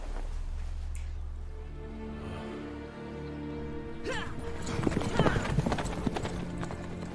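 Roach the horse clip-clops along at a steady pace in The Witcher 3, hoofbeats rising louder and busier partway through amid crowd bustle, with characters speaking over the hooves.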